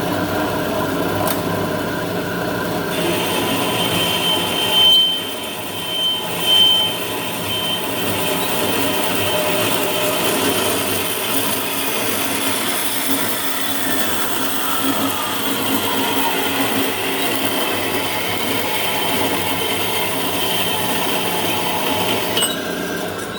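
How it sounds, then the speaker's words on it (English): A power tool grinds steadily through 2-inch pipe for a John Deere dump bed motor repair, a loud continuous whine and buzz running for over twenty seconds with a few brief bumps, close up and without talk. "We're gonna cut that pipe to fit the motor."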